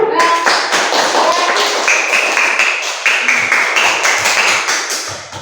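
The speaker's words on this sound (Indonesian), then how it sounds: "kita beri tepuk tangan untuk kita semua" A classroom of students claps together in a lively burst, sharp overlapping hand claps filling the room at close range and keeping a fairly even level before tapering slightly at the end.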